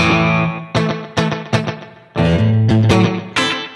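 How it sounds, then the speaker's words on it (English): Electric guitar through a Line 6 Helix 50s rock and roll patch with spring reverb and a short slapback echo, several loud strummed chords and stabs each trailed by a quick repeat, played alone. "Then I have a slapback echo."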